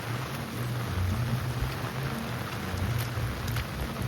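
Steady rain falling at a farmhouse under construction, a broad even hiss with faint low rumble underneath, continuous and moderately close with no voices.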